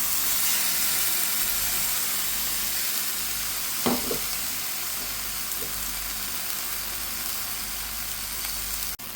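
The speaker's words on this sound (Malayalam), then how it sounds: "വെച്ചേക്കുന്ന ഈ ചെമ്മീനെ നമുക്കൊന്ന് പാനിലിട്ടൊന്ന് ഫ്രൈ ആക്കി എടുക്കാം" Shrimp frying in a hot pan give a loud, constant sizzle and steamy hiss, with a brief scrape or stir partway through.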